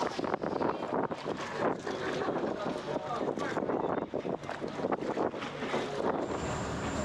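Dive boat off the Maldives motoring in to pick up divers at sea, its engine and hull noise steady and fairly close, mixed with strong wind buffeting and water wash throughout.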